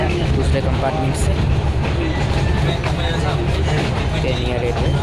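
Kenya Railways passenger train running from Nairobi to Kisumu, heard from inside a compartment as a steady, loud rumble and rattle of the carriage with faint rhythmic track clatter, continuous throughout with no voices.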